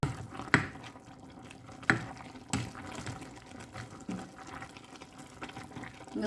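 Chicken curry with garden vegetables simmers in a covered pot, giving a faint, continuous bubbling and watery churn with a few sharper knocks, close and quiet with no talking.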